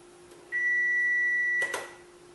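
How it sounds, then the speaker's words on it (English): A single clean electronic test tone sounds alone in a quiet room, steady for about a second, followed by a short clatter. "when you hear the beep, you're going to push the grey"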